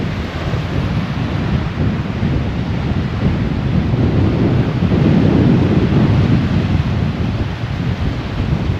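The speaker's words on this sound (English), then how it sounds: "it is so windy, it's ridiculous." Strong wind roars steadily at Copi Hollow lake in the Menindee Lakes area, a loud, constant broadband rush buffeting the microphone with no pauses and no voices.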